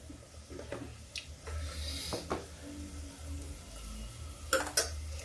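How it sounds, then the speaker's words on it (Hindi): Tomatoes and chana dal fry softly in a pan while a utensil stirs and scrapes, giving a low sizzle broken by occasional clinks and brushing strokes, close and fairly quiet. "टमाटर डाल के 5 मिनट के लिए इसको फ्राई करते हैं।"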